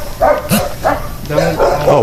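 A stuck dog barks and whimpers close by, several short yips and whines in an uneven run, mixed with people talking over it.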